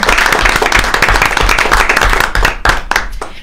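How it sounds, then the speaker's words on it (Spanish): Applause for visiting guests in a radio studio in Sucre, Bolivia: a dense, steady burst of clapping from a small group close to the mic, thinning into a few scattered claps at the end. "un aplauso por su visita."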